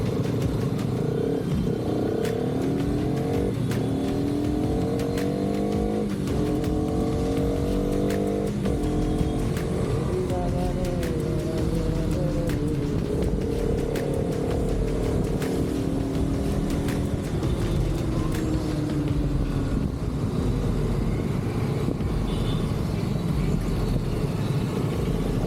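Car engines at the Coimbatore race course make a loud, continuous roar, with engine tones rising and falling as the vehicles rev and pass, against a busy wash of outdoor noise.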